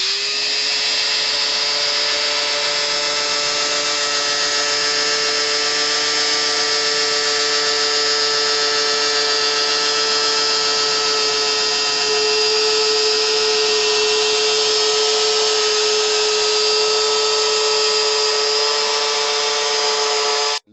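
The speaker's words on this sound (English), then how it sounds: "Electric motor." Steady high-pitched electric whine from a small motor salvaged from an old, worn-out screwdriver driving a worm gear, a homemade rig shown at an auto festival, running continuously and loud for the whole stretch with no talk.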